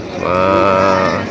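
A single loud, drawn-out low moo from a water buffalo, close by, lasting about a second.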